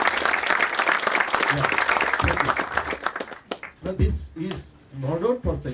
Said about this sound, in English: Let us have 1 minute of round of applause.